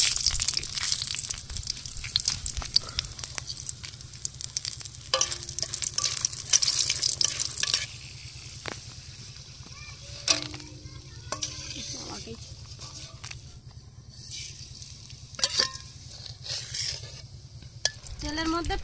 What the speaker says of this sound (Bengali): গোটা জিরা আর গরম মশলা ভেজে নেব।